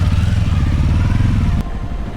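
An off-road motorcycle rumbles close by on a mountain trail at Merapi, its engine chugging steadily and loudly before dropping slightly in level as it moves on.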